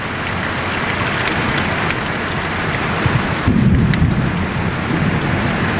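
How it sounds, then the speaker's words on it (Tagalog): Thunder rumbling from lightning during steady heavy rain on a ship voyage, a constant rain hiss with a low thunder rumble swelling near the end. "Kumidlat pa. oh. Nakidlat, nakidlat."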